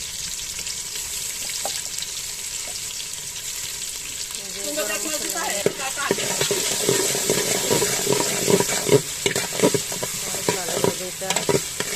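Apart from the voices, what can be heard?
frying soaked mashkalai dal with onion and garlic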